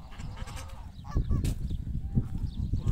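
Geese at a duck farm in Kuwait honk in several loud, nasal calls close by, overlapping with rustling farmyard noise.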